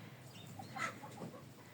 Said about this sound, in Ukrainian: Це курочка.